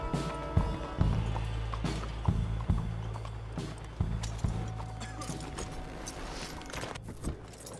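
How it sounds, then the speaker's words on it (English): Hooves of a horse clip-clopping on the ground as it is hitched in the video game Red Dead Redemption 2, several uneven hoof knocks with faint tack jingles over a low background hum. "There's Bill. Let's hitch up here."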